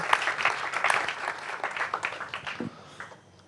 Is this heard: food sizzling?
no